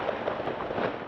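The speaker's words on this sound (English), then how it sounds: "gunshots echoing through the Jenin refugee camp" Gunfire in the Jenin refugee camp during heavy fighting in the West Bank, heard as a dense, noisy crackle of shots and echoes with no single clean report standing out.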